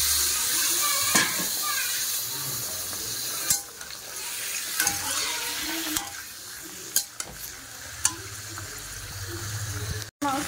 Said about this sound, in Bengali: এর মধ্যে আমি মাংসটা দিয়ে নেব।